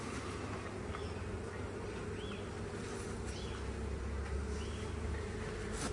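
Honey bees buzz continuously at a hive entrance, a dense, steady drone of many wings close by with no voices.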